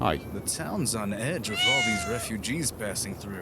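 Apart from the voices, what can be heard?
loud cat meowing in Fallout video game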